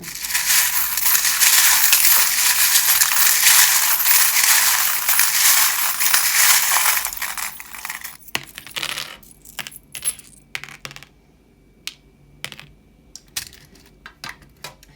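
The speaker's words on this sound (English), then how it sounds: "They are mainly metal charms in a metal tin." Small metal charms rattle and jingle continuously inside a metal tin for several seconds, then settle into scattered clinks and taps.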